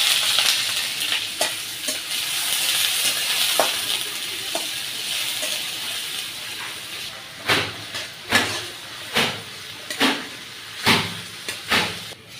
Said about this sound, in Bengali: পেঁয়াজটা তো হালকা ভাইজে নিচ্ছি